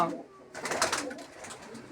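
Large pigeons of a home-bred line cooing softly in a loft, a low murmuring coo beneath faint background noise.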